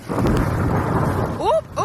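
Thunder snow rumbling through a major winter storm in Connecticut, a loud broad roar that fills the moment, with a brief voice cutting in near the end.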